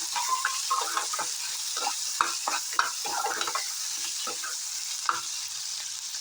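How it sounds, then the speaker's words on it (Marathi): Two onions frying in a pan, a steady hiss of sizzling oil broken by scraping stir strokes and a few sharp clicks of the spoon against the pan, with no voices. "त्याच्यामध्ये 2 कांदे घेतले, छान असे भाजून घेऊ."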